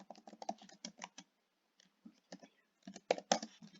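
Keys on a computer keyboard tapped in two quick bursts, a dense run of clicks at the start and another flurry near the end, with a quiet gap between, close and fairly clear with no talking.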